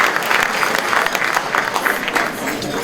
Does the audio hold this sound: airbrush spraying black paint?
no